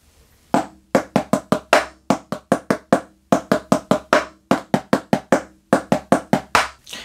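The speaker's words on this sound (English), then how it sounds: "I'm going to play the first measure of part C before we get into the different endings" Snare drum playing the first measure of part C of the drum piece 23 Skiddo, a dense, crisp run of sharp strokes in quick, grouped rhythmic patterns, close and loud, with no voices.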